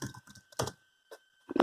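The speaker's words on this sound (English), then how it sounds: "we'll just spam the keyboard" Keys on an old MacBook Pro keyboard are hammered in quick, scattered bursts of clicks separated by short pauses, close and fairly quiet.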